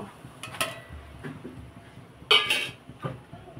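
Ground semolina goes into sugar syrup in a pan, with a few light metallic clinks and scrapes of a utensil against the pan, faint and close, with quiet pauses between.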